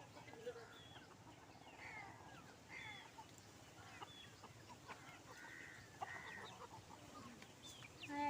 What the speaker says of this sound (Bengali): তো বন্ধুরা একটা মুরগি আজকে কাটা হবে, তো ওই জন্য এদের চাল দিচ্ছি